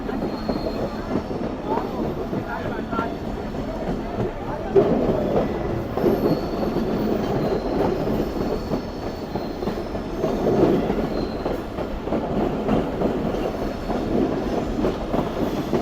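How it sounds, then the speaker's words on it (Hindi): A Pakistani passenger train on the Larkana to Kotri route brakes while descending the Kirthar mountains, with a continuous loud rumble, rattling wagons and faint wheel squeal, heard from on board. "अब बस आहिस्ता आहिस्ता ट्रेन ब्रेक लगाते हुए इस पहाड़ से नीचे उतरेगी"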